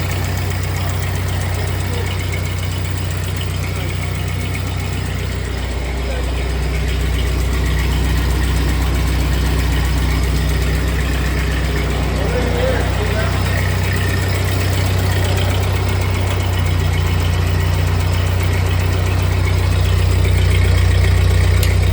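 A 1948 Ford 8N tractor engine runs steadily at idle for the whole stretch, loud and close, with a low throbbing drone that rises slightly partway through.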